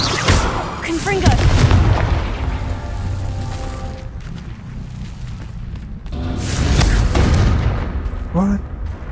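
Confringo blasting spell in Hogwarts Legacy, two heavy booming blasts with rumbling tails, one near the start and another around the middle, separated by quieter game ambience with a brief voice.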